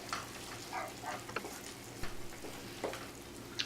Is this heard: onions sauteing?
yes